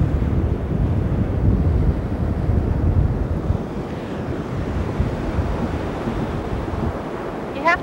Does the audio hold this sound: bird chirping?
no